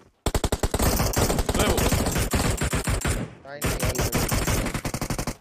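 Rapid bursts of automatic gunfire from the BGMI battle royale game fill the scene, loud and near, with a brief gap before another sustained volley; a player's voice speaks briefly over the shots.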